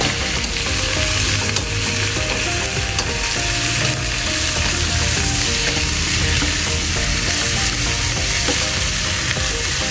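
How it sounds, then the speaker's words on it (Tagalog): Shrimp frying in a hot pan for a home-cooked Filipino dish: a loud, steady, dense sizzle with crackling spatter throughout, close up and unbroken, with no voices over it. "Lagay na natin ang shrimp."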